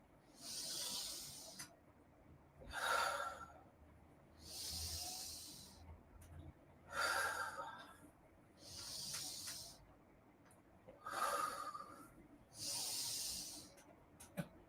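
Slow, audible breathing during a gentle yoga session, with seven soft hissing breaths, inhales and exhales, spaced a couple of seconds apart in a quiet room, close and alone.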